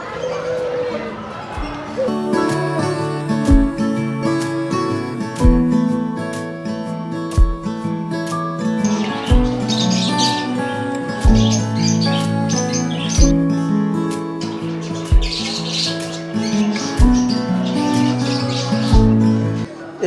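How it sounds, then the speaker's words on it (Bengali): Birds in a zoo aviary cage holding purple swamphens at Bangladesh National Zoo in Mirpur, Dhaka, give scattered high chirps and calls over a busy, steady background with voices nearby. "এই খাঁচাটাতে রয়েছে কালেম পাখি"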